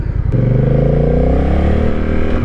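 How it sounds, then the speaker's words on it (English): A Honda Rebel motorcycle with a DCT automatic gearbox accelerating up close, its engine note loud and steady, rising smoothly in pitch without a gear change. "I like the way this bike sounds. It's got a good, aggressive sound."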